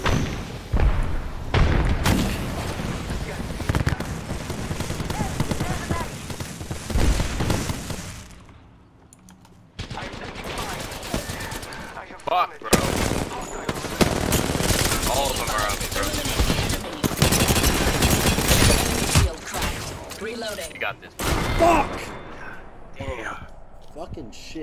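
Apex Legends gunfire: repeated bursts of automatic shots and thuds broken by short pauses, with keyboard clicks and a player's voice mixed in.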